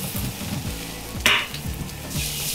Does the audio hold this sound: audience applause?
no